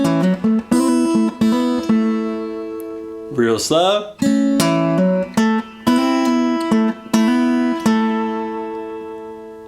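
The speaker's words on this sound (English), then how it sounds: "next we have a very cool major pentatonic lick" Fingerstyle acoustic guitar picks a major pentatonic gospel blues lick in A, plucked notes ringing in short phrases with a quick sliding bend near the middle, close and clear, with a brief spoken remark at the start.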